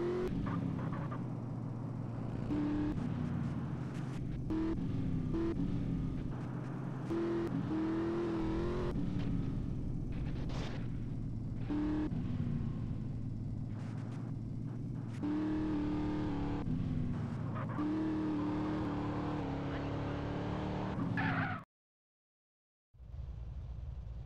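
Car engine in GTA San Andreas, a continuous droning motor with repeated revving rises and falls as the car is driven, loud and close, cutting out briefly near the end.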